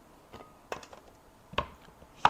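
A knife chops vegetables on a board, with a few soft, irregular strikes and two sharper, louder cuts near the end, close and quiet, with no talking.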